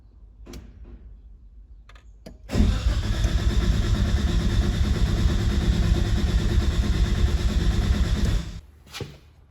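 Nissan R31 engine cranking with the starter during a cylinder compression test, a loud, steady, even churning for about six seconds that stops abruptly, with faint clicks before and after and no talk.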